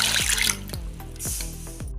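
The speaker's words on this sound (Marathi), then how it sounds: "ह्या भरड मधलं पाणी ओतून काढते।" Water is poured off rinsed cracked wheat in a home kitchen, heard as a close, splashing pour followed by several short, distinct drips and sloshes landing at irregular intervals.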